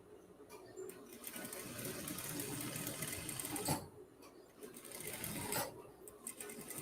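A sewing machine stitches a blouse's facing seam from the outside in, whirring in fast steady bursts with brief pauses between runs, heard close and alone.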